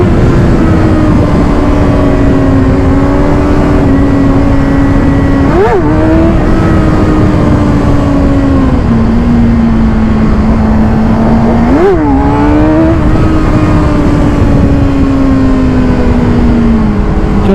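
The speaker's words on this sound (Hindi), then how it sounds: "ZX6R चला रहा हूँ।" A Kawasaki ZX-6R motorcycle rides at speed on a highway, its loud engine droning steadily close by, with two quick rev blips and gear changes breaking the sustained note.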